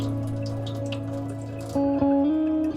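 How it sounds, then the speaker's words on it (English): A cold water tap in an RV drips and dribbles in a thin trickle, with scattered droplet splashes over a steady low hum that jumps up in level partway through. "But as soon as I turn it to cold water, we just get a dribble."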